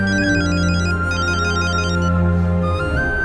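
A phone ringtone plays steadily while a call is placed, its repeating electronic melody loud and continuous, sitting over a sustained background music bed.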